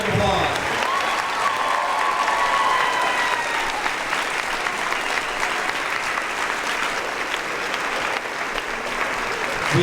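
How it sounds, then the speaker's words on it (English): A school crowd applauds the volunteers at an 8th grade promotion ceremony, with loud, sustained clapping and some cheering that fills the whole stretch at steady intensity. "Give them a big round of applause."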